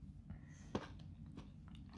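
Someone bites into a crunchy Nestle Crunch chocolate bar and chews it, giving quiet, close crackling crunches with a sharper bite partway through.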